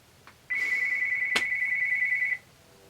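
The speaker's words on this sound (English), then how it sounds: "My phone's going off now." A mobile phone's ringtone sounds as one loud, steady electronic tone for about two seconds, close by, with a brief click partway through over faint room noise.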